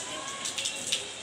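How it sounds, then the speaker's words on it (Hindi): Steady rain pours down on the fourth straight day of downpour, a continuous broadband hiss of drops with slight swells in intensity and no distinct individual impacts. "ये बारिश रुकने का नाम ही नहीं ले रही।"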